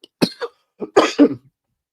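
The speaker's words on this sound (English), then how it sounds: "I'm still getting a little bit over my congestion and my cough I had" A short burst of two or three dry coughs, close and fairly loud, with brief silence around them.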